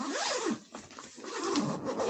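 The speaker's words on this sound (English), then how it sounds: "We zip up our sleeping bag." A sleeping bag is zipped up with a few quick rasping pulls, close and loud, with brief pauses between strokes and no talking.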